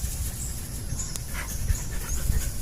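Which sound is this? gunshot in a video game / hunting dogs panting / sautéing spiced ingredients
hunting dogs panting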